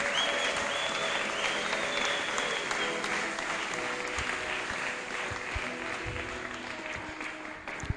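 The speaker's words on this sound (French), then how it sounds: "Applaudissons pour le Seigneur" A church congregation applauding in praise, a sustained even burst of many hands clapping at moderate level from start to finish, with a few murmured voices beneath.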